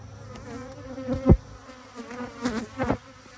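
Honeybees hum steadily around a backyard hive, a close, low buzz with a few louder swells as individual bees pass near, and no voices.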